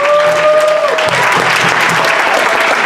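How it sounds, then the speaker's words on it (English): Students applaud at a school assembly, giving Samuel Valtierres, a District 209 board member, a round of applause. Dense, loud clapping fills the space steadily throughout, with a faint tone fading early. "students, let's give a big round of applause to Samuel Valtierres"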